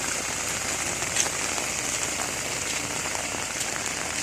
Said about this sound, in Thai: นี่ครับฝนตกเงาเลยครับ